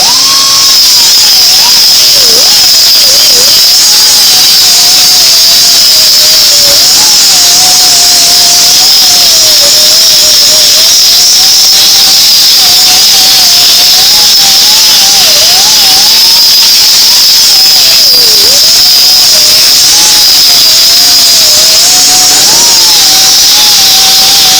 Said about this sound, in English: welds all ground back down as far as we're going to go with them. With the little wizard wheel.